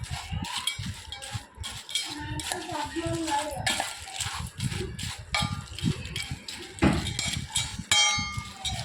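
Crunchy chana jor, flattened chickpeas tossed with chaat masala, is stirred in a pan close by. A spoon scrapes and clinks against metal in rapid, uneven bursts, and the dry pieces rattle against each other.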